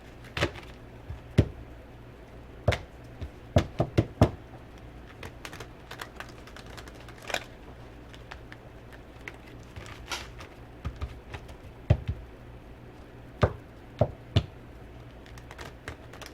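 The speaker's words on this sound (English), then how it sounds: "Make sure these are shuffled" Soft, irregular clicks and light taps of tarot cards being shuffled, close by, with brief pauses between bursts and no voices.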